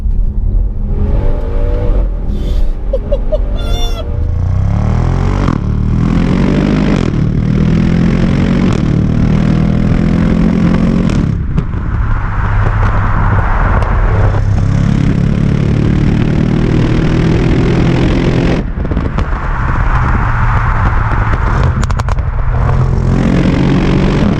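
A 2019 Audi RS6 Performance in dynamic drive mode, its engine roaring loud and close through repeated rising revs and gear changes, with brief drops between pulls over a sustained run.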